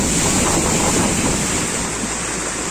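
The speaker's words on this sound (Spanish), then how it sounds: "nuestra amiga Claudia y nuestro pana Leo ya metiéndose en esta cascada" Rushing water of the Los Molinos waterfall near Jimbilla, Loja, Ecuador, a dense steady roar filling the whole clip, loud and close with wind buffeting the microphone and no voices.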